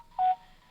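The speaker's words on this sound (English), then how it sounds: "Yeah, that's my phone, my cell phone." A cell phone going off sounds as a single short electronic beep tone, clear but moderately quiet, standing alone in a brief quiet moment.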